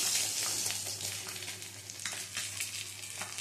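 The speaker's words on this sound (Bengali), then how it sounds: "মাছের পেটিগুলো ভাজা হয়ে গেছে, তুলে নিচ্ছি" Rohu fish pieces fry in hot oil with a constant bright sizzle and light irregular crackling, heard alone without voices.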